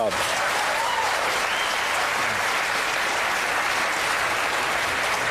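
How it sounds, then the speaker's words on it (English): Steady, dense applause from the audience at a televised political debate fills the whole stretch at an even level, with a few voices faintly mixed in. "The mention of the execution of 234 people drew applause."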